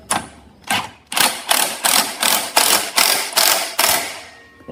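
Ratchet on a large socket tightening a bolt on a 400cc drag bike, a quick first burst of clicks then about seven steady, evenly spaced ratcheting strokes, close and loud with no talk.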